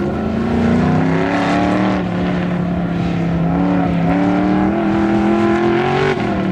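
An autocross race car runs a timed lap, its engine droning loud and steady up close, the pitch rising and falling as it accelerates and eases through the course.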